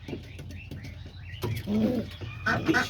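Homing pigeons, including a white one, coo softly in a loft, with low murmuring calls, a few sharp taps or wing flutters, and brief chirps from nearby birds.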